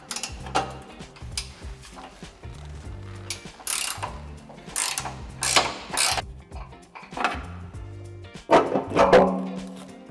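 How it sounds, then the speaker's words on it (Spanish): A ratcheting wrench clicks in rapid, uneven bursts while loosening a bolt under a 2019 Mercedes-Benz EQC 400 4Matic during a tow hitch installation, with metallic rattles in between. "En este tornillo, que es el último que nos falta por aflojar, podemos hacerlo con la misma llave."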